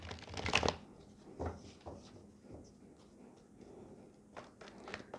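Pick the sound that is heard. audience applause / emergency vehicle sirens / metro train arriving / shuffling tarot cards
shuffling tarot cards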